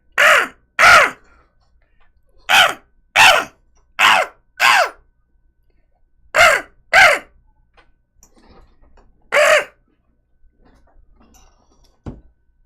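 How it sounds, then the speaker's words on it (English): Crow cawing in a video game: repeated harsh caws in paired and single bursts, loud and close, with short silences between groups and a faint click near the end; no talking. "I'm a freaking crow, bro."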